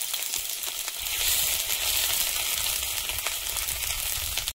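Dried red chillies and panch phoron sizzle in hot oil, with ginger added, in a Bengali home kitchen. The frying is steady and loud, with no talk, and a brief quieter start before the sizzle swells and then holds.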